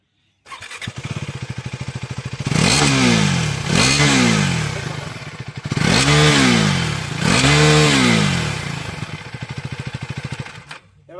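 KTM Duke 390 motorcycle idling with a steady exhaust putter, then four loud throttle blips rising and falling in pairs, close and alone with no talk.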